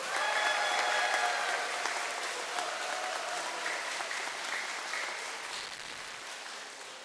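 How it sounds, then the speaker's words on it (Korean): A Catholic Mass congregation at Haeundae parish gives hearty applause to welcome their pastor; dense clapping starts strong and gradually tapers off over several seconds, heard at a distance in a reverberant hall. "격렬한 박수로 맞이해 주십시오."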